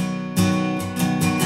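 A short burst of acoustic guitar strumming on a worship song arrangement of Amazing Grace, with a few strong chord strokes ringing close and clear, no voice over it.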